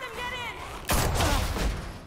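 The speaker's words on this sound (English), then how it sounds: "Guess I'm shooting everyone." Gunfire from shooting at attackers in The Walking Dead: Michonne video game, a loud burst of shots starting abruptly partway through and continuing dense to the end, following a quieter stretch with game music.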